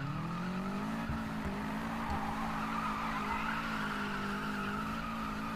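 A car spins and skids in the Need for Speed racing game, with a sustained tire squeal over a loud, steady engine roar lasting throughout, close and unbroken.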